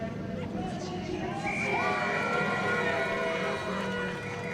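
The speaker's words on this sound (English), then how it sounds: "Cheer from the crowd tells me it was Maciej JANOWSKI that got it." A speedway crowd at the race finish roars in a dense, steady wash of cheering and shouting with a few rising whistles or horn tones, and a voice talks faintly underneath.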